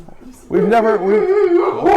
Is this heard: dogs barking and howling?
yes